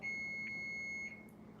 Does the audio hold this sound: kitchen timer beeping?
yes